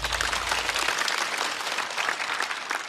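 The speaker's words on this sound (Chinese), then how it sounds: "再次掌声送给小帕" An audience applauds a stand-up comedian, a dense burst of many hands clapping that carries on steadily throughout, close and full with no talk over it.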